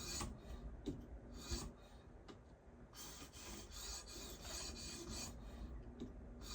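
A Spyderco house knife is sharpened with repeated rasping strokes against a stone, close and faint, in an uneven back-and-forth rhythm with no speech.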